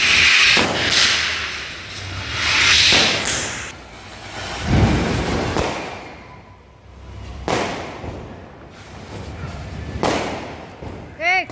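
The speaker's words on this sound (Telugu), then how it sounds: "ఇద్దరు కలిసి టపాసులు కాల్చారు" Several loud Diwali firecracker bangs go off one after another at irregular intervals, with a sharp crackle and ringing echoes between blasts and some voices around.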